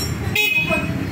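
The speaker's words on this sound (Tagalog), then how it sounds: "And then yung kanyang horn." A short horn toot from a 2024 NWOW WSP electric classic scooter sounds once amid a bit of background noise, brief and fairly close.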